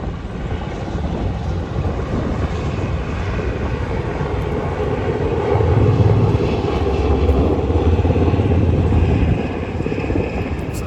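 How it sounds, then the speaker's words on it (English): A helicopter flies over with a steady rotor and engine drone that swells louder midway through, then eases slightly as it passes. It is heard alone, at moderate distance. "And here comes a helicopter. Is that military?"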